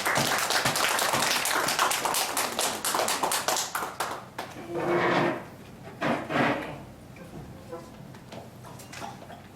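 An audience at the founding general meeting of a mixed-use building redevelopment association in Ulsan claps rapidly and loudly, then the applause thins into scattered claps and taps that die away.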